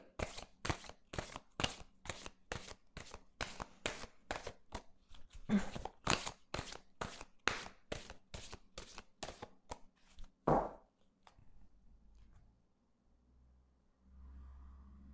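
Petit Lenormand cards being shuffled for a reading: a long run of quick, crisp riffling bursts in a steady rhythm, close and fairly loud, stopping with a final tap before quiet.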